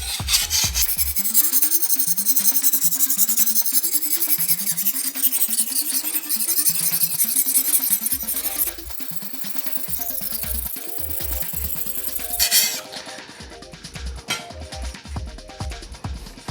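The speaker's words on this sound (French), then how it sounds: "on y va et on essaye de faire un petit peu toute la lame et toute la pierre" A kitchen knife blade scrapes back and forth across a whetstone in quick, rhythmic rasping strokes, close and clear, the pace shifting partway through as the sharpening continues alone.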